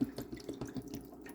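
Water poured from a nearly full 2-liter plastic bottle onto a potted ginger plant, heard as a short, steady splashing trickle into soil, fairly quiet and close, with no talking.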